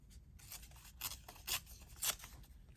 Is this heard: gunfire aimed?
no